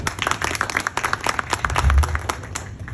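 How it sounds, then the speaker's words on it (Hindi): An audience applauds a guest, Syed Faraz, at a gathering. Individual claps are distinct and fairly close, forming an uneven, lively patter, with a low rumble or thump partway through. "तो पहले तो सैयद फराज साहब के लिए बहुत सारी तालियां।"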